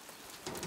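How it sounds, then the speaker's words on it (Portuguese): Rain falls steadily during a spell of heavy rain in a city in Bahia, a soft, even hiss that grows a little denser midway through, faint and brief with no voices. "Choveu a noite toda e hoje de novo, olha."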